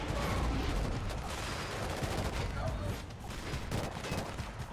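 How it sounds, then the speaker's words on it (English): Sustained rapid weapon fire from a charging gun in the shooter game Killzone: Shadow Fall, dense and loud throughout with a brief dip near the end. "I don't like that charging weapon."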